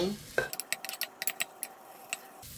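Dried pollock and seaweed stir-fried in sesame oil for soup, with a soft sizzle under a string of quick metallic clinks and scrapes from a utensil against the pot, then a brief quieter stretch.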